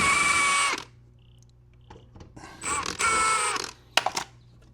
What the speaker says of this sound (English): We got the last bolt coming out now